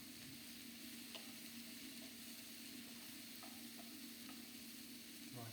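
Mushrooms fry in a pan with a steady, faint sizzle while a spoon gives occasional light taps and scrapes as they are mixed in.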